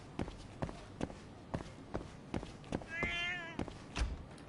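A cat gives a single clear meow in the video game Lost Judgment, heard over steady rhythmic footsteps.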